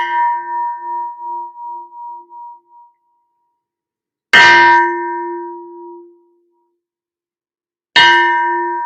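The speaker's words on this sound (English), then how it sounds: "It's my favorite bell." A single bell rung to clear energy before a show, struck twice with a bright metallic clang, each strike ringing out in a long sustained tone that slowly fades into silence.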